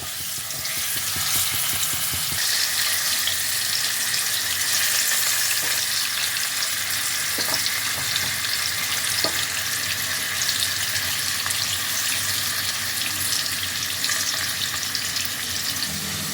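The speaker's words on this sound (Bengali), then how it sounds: "আঁচটাকে লোতে রেখেই একটু সময় ধরে আলুগুলোকে ফ্রাই করতে হবে" Potatoes frying in oil over low heat, a steady broadband sizzle running close and continuous throughout, with occasional faint clinks and stirring, no voices.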